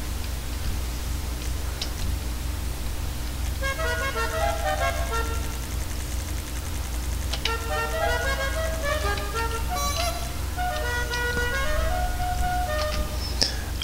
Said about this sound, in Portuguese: A buzina é esse meu